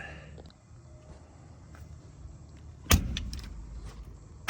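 A Chevy Tracker project car being moved into a backyard: a low mechanical rumble, then a sudden clunk and rattling thump near the end.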